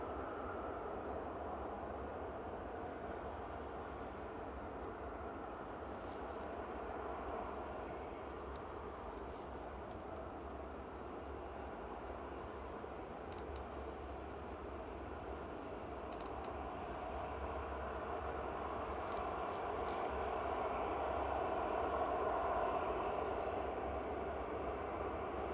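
An airliner landing at Manchester Airport, its bucket thrust reversers deployed, gives a steady broadband roar with a low rumble underneath that stays even throughout and swells slightly toward the end.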